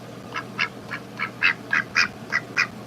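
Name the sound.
domesticated house duck quacking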